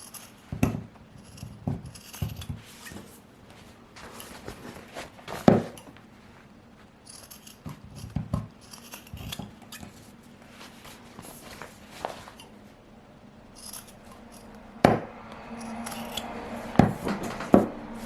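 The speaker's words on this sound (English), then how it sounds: "I'm gonna trim off these extra threads I have" Scissors snip away loose threads on a freshly sewn zipper pouch, giving scattered crisp clicks and snips spread across the stretch with soft handling and rustling between them, near and moderately quiet, with no voice.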